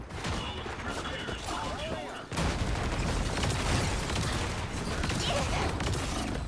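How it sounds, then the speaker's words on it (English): Gunfire in a video game aimed at the player, a dense, continuous burst of shots and booms that grows louder partway through, heard up close and loud. "Someone's shooting at us!"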